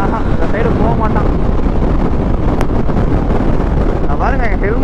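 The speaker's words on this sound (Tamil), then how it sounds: "பாருங்க, ஹெல்மெட்டை தள்ளுது காற்று, எல்லாத்தையுமே ஒரு சைடு தள்ளுது" Strong wind roars and buffets the microphone while riding a Hero XPulse 200 adventure motorcycle at speed on an open road, a loud, continuous rushing noise that swamps everything else.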